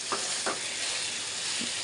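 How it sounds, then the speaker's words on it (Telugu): Spice tempering of cumin, garlic, dried chillies, onion and mustard seeds sizzles in hot oil for a chutney, a dense close hiss broken by a few quick stirring scrapes. "పచ్చడి అయితే పోపు పెట్టేసుకుంటున్నాను"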